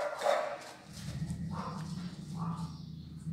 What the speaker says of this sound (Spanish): ella escucha a los perros de afuera y quiere ir a ladrar